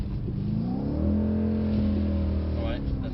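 A Mercedes C63 S engine revs hard while drifting and holds a high, droning pitch for a few seconds before easing off, close and loud, with voices briefly audible.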